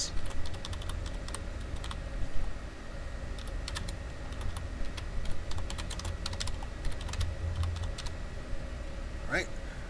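Rapid clicking of keys on a computer keyboard, steady and close throughout, with a person talking quietly over it.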